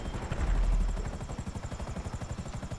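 An aircraft flies in the game GTA V Online, its rotor-like engine chopping rapidly and steadily at close range, loud and continuous with no voices.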